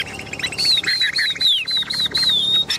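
A tame Chinese hwamei songbird sings loudly and close, a string of bright repeated whistled phrases with rapid trills between them, no talking.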